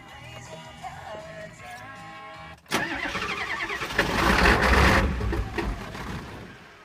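A 7.3 engine cranks over on a cold start, the starter grinding briefly before the motor catches and runs rough and loud, building in roar up close.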